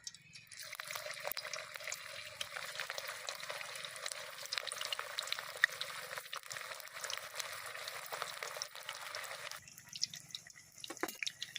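Shapes of semolina and potato fry in hot oil in a wok, crackling and bubbling with a dense, fairly soft sputter that drops away near the end.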